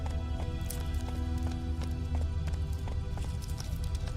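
Roach the horse gallops in The Witcher 3, hooves clip-clopping in a steady rapid rhythm over a low rumbling game background, close and fairly loud throughout.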